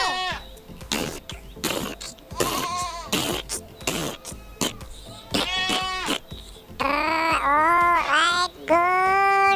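Goat bleating heard with a toy farm animal figurine play, a series of wavering, nasal bleats repeated rapidly, loud and close, growing longer and more sustained toward the end.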